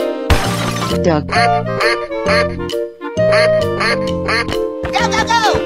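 A cartoon duck quacks several times over upbeat children's music, loud and close, among playful sound effects in a kids' animal video.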